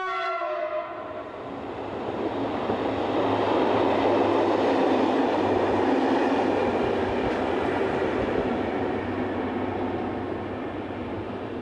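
SNCB electric locomotives 1337 and 1303, identical to the CFL Class 3000, pass on the railway with a steady loud rumble that swells and holds, a horn tone at the start, no voices.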